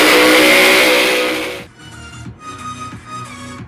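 A 3,000-horsepower pulling truck's engine roars loud and dense at a truck pull, then cuts to a rougher, lower rumble with surging revs over the remaining seconds.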